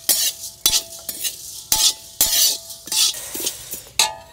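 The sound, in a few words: roasting spices and cumin for homemade sambar powder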